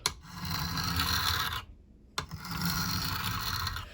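Hand file rasping along a knife blade in long, steady strokes, close and loud, with a short pause between two continuous passes.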